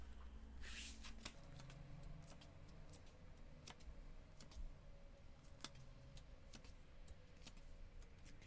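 Tarot cards are shuffled by hand in a quiet room, producing continuous soft riffling and papery flutter with repeated crisp snaps as the cards are bridged and tapped, close and faint, with no speech.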